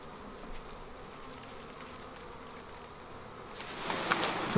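A swarm of bees, sprayed with sugar syrup and shaken off a branch into a pillowcase-style bag, buzzes in a steady, moderately close drone that swells louder and busier toward the end, with no talking.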